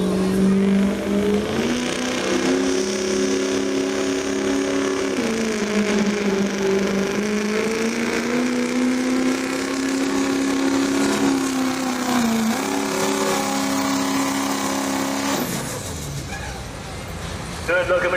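A pulling truck numbered 309 revs its engine at a truck pull contest at a county fair, a loud sustained roar rising and dipping in pitch for about fifteen seconds before cutting off, with an announcer talking over it.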